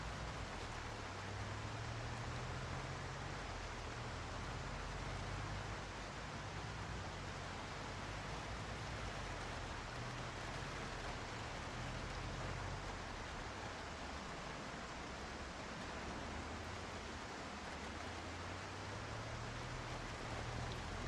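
Stormy rain in the video game Project Zomboid, a dense, even wash of rain noise that holds steady throughout at low level with no talk.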